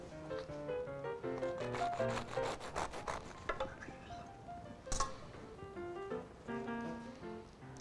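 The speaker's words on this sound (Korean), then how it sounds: "지금 이 제품 한번 잘라 보도록 하겠습니다." A knife saws through a strawberry marron loaf with a strawberry biscuit crust, piped fresh cream and chestnut cream filling: quiet, repeated rasping strokes and crumbly rubbing, close up over soft background music.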